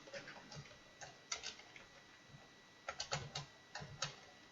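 Code is typed on a computer keyboard in short bursts of quick, crisp key clicks with brief pauses between, close and fairly quiet over a faint steady hum.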